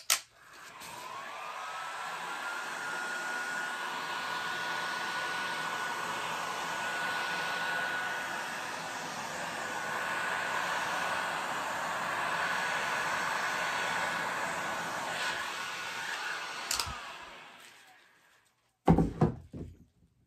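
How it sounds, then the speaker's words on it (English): A heat gun blows steadily with a continuous whooshing whine for about seventeen seconds while a TV table is being heated, then cuts off, followed by a couple of short knocks. "Heating it with, well, let's do it with the heat gun."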